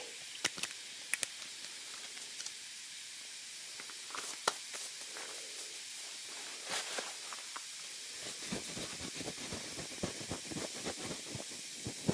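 Liquid fizzing up close, a steady high hiss with many sharp crackling pops that thicken toward the end, with no talking.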